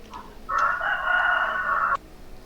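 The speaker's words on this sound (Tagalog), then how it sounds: "May manok." A rooster crows once, a single sustained cock-a-doodle-doo lasting about a second and a half, clear and moderately close over a quiet background.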